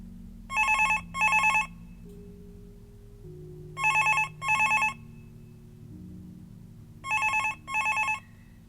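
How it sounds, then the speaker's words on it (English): A classic telephone bell rings in three double-burst cycles, each pair of bright metallic trills separated by pauses, loud and close over a low ambient musical drone. "It was only a day later when the phone rang again."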